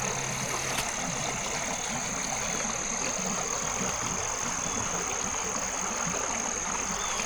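A Toyota Corolla engine drones at a low, steady level from inside the car while driving, with constant road and cabin noise and no talking.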